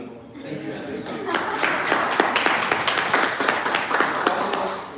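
An audience at an investment forum in Toronto breaks into steady applause of many hands, building quickly and holding at a lively level before easing off slightly.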